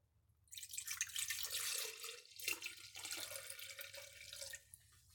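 Water from a tap pours steadily into a measuring cup for about four seconds, a close splashing stream with no talking, as fermented water is measured for homemade hot sauce.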